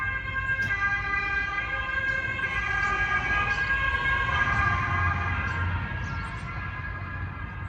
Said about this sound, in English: Me hearing ambulances, since my mom passed away, it always scared me.